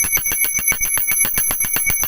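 A small hand bell, kept at home or in a shop for good luck, rings in a rapid steady run of bright metallic strikes with a shimmering sustained tone, close and clear with no voices.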